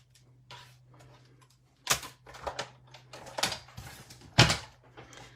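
Scissors snip through paper cardstock at a stamping and card-making workshop, giving several crisp, close cuts in uneven bursts over a low steady hum.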